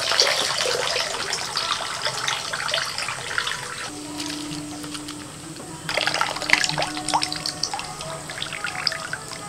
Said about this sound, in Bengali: জল থেকে ভালো করে ধুয়ে ছেঁকে তুলে নিয়ে আবারও এই ঠান্ডা জলে দিয়ে দিচ্ছি।